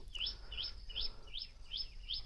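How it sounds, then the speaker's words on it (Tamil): Small birds chirping in a sacred fig tree at a temple, giving a rapid series of about six bright, repeated high tweets at an even rhythm over a low background hum. "அரச மரத்தில் பறவைகளெல்லாம் சத்தம் போட்டுட்டு அழகாக விளையாண்டுருக்கு"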